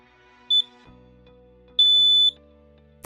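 LINKD interlinked smoke alarm from the CORE range chirps after its test button is pressed: two shrill high beeps, a short one then a longer sustained tone, with a faint low hum between.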